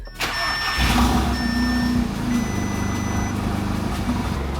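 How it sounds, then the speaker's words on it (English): An Audi car engine cranks and catches, then settles into a steady idle with a faint uneven sputter from a slight misfire, close and fairly loud. "There's just a little bit of a hint of a sputter. Sounds like it might be picking up a little bit of a misfire"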